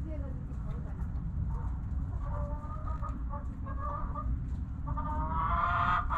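A brooding hen sitting on two goose eggs gives soft, intermittent clucks that grow busier toward the end, over a steady low background rumble.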